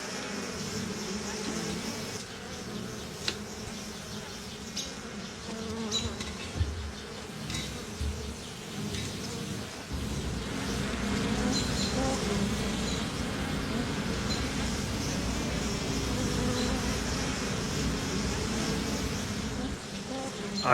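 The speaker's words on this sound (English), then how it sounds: "the bees can get in and out of the cage" Honey bees buzz steadily around a hive holding a caged queen, a dense droning swarm that grows fuller and louder partway through and continues without letup.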